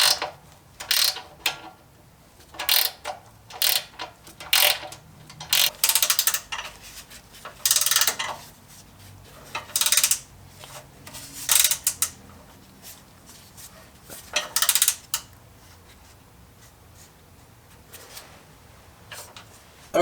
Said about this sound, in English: We're going to tighten her down now.